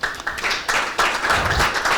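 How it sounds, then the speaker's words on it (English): Audience applause at a conference plenary session, a short burst of clapping from a crowd that swells and continues steadily, with no talk over it. "Can we just give them a final round of applause?"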